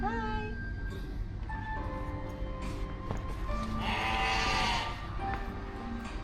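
Goats bleating at a goat milk feeding farm, several wavering bleats near and farther off over a busy background murmur, one longer cry rising loud in the middle.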